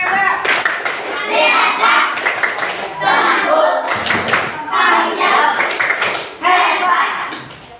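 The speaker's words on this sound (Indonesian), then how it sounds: "Kasih tepuk tangan. Tepuk hebat." A classroom of children claps hands in short rhythmic bursts, with patterned claps mixed with young voices chanting together, repeated several times close by.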